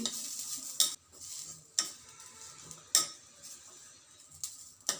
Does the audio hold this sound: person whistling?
no